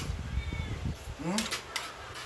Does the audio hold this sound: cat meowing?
yes